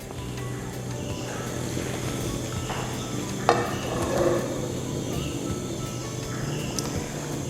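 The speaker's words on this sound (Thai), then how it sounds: "นำกะทินะครับก็เราจะใช้เป็นหัวกะทินะครับ ลงไปผัดในกระทะ แล้วก็ ใช้ในส่วนของน้ำพริกแกงนะครับ ลงไปผัด" Coconut cream and curry paste stir-frying in a pan for pork panang give a steady, close sizzle with soft stirring scrapes and one brief utensil clink partway through. No voices are heard.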